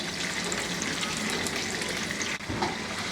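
Ginger garlic paste fries in hot oil with a dense, loud, continuous crackling sizzle close by, broken only by a brief dip as it is stirred.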